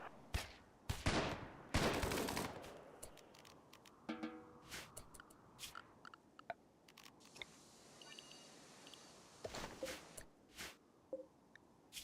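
Turret gunfire in the video game Rimworld, with rapid bursts of shots and scattered single cracks mixed with electronic beeps, fairly quiet overall.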